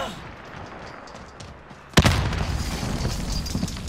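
Light machine gun fire in Call of Duty: Modern Warfare, a Season 3 update weapon, erupts suddenly after quiet ambience and keeps booming as sustained loud gunfire to the end.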